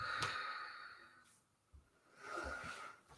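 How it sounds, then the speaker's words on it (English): A slow, audible exhale during a yoga session, a soft breathy sigh up close, followed by quieter breathing after a short pause. "Exhale, lower down."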